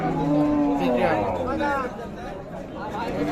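Cows with calves, including Sahiwal, Sindhi and local Deshal breeds, low in drawn-out moos at a busy rural cattle market, close and fairly loud under constant buyers' and sellers' chatter.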